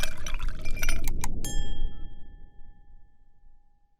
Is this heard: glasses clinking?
yes